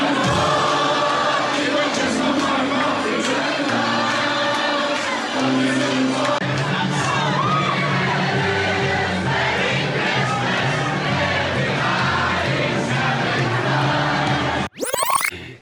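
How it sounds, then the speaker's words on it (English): A club crowd going wild, heard as a played recording: loud, dense, continuous roaring and shouting throughout, with a brief abrupt cutoff near the end. "Getting all the crowd to go mental in the club."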